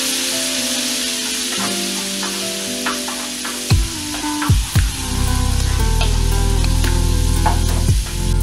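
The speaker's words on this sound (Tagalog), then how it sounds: "Ngayon, ilalagay yung bawang kasi pa-fry ko yung mushroom." Mushrooms and garlic frying in butter in a pan, a loud close sizzle that swells as more goes in, with a few clanks of a utensil against the pan and no talking.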